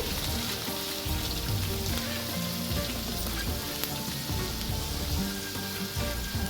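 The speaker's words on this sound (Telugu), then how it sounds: "ఎక్కువ ఉల్లిపాయలు వేసుకుంటేనే టేస్ట్ బాగుంటుందండి" Onions, green chillies and curry leaves fry in oil for a buttermilk rice-flour upma, giving a steady, dense sizzle that holds at the same level throughout, close and continuous with no talking.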